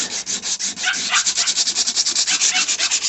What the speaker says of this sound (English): going to try to sand it off again, that POR-15